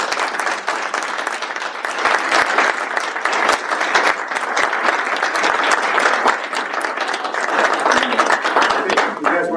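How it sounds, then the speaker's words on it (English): Sustained applause fills a city council meeting in Universal City, Texas, dense and even clapping from a room of people lasting the whole stretch at steady volume. "I would like to have a great round of applause for these young men and women here."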